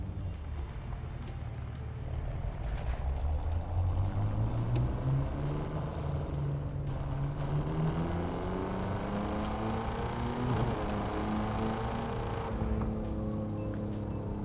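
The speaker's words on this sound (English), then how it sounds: "tonight on The Crew 2, we are driving the 2011 BMW M5, more commonly known as the F10 M5" A 2011 BMW F10 M5 drives in The Crew 2, its engine note rising and falling steadily through gear changes, with tire noise and a passing whoosh near the end, loud and unbroken with no talk.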